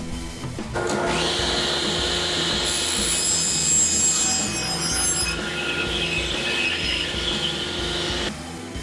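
A saw rips plywood strips for a jig fence, starting up with a steady, loud whine and cutting continuously for about seven seconds before it cuts off.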